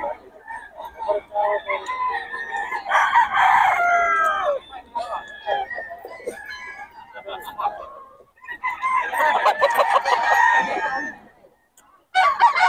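Roosters at the Bocaue tiangge market crow loudly and close, in two long harsh bursts separated by a pause, with clucking and other fowl calls mixed in and voices faintly in the background.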